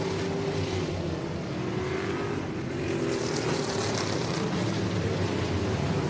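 Race cars roar in an outlaw figure 8 race at Showtime Speedway during the 2023 Southern World Finals. Their engines make a loud, continuous drone that swells slightly as the cars pass, with no voices heard.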